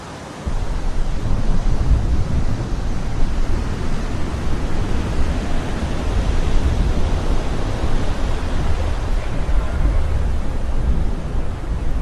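Ocean waves and wind out at sea make a steady, loud broadband roar that runs unbroken for about twelve seconds with no voices.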